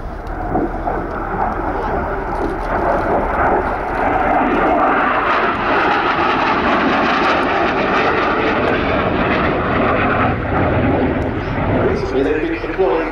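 Harrier EAV-8B jet at an air show, a loud sustained roar of the jet engine rolling on for many seconds, with a commentator's voice over it.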